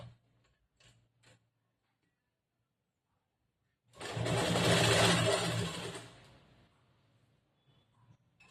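A tailoring-class sewing machine stitches a back-hook blouse in one loud whirring burst of about two seconds, then winds down. Faint ticks and handling noises come before it in an otherwise quiet room.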